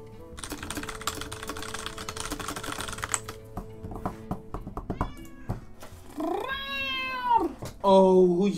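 A cat meows close by in a drawn-out, rising and falling call, followed by a second shorter meow, after a stretch of steady computer keyboard typing.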